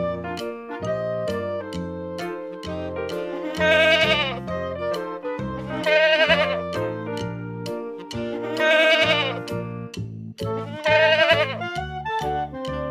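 Wavering goat kid bleats ring out four times over an upbeat musical backing, each cry a quivering, drawn-out call.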